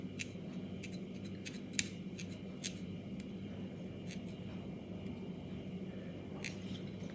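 Small scissors snip away fly-tying thread at the vise while tying a Wickham's variant fly, several soft, close clicks scattered over a low steady room hum with no talk.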